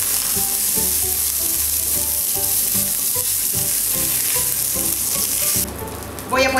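Salmon browning in a frying pan gives a loud, steady sizzle with small crackles and pops, continuous throughout before dropping slightly near the end.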